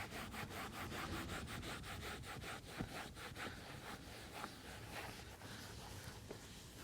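A microfiber towel rubbed across a leather car seat to lift excess conditioner, a steady, soft, close scrubbing rhythm of quick back-and-forth strokes, with no voice over it.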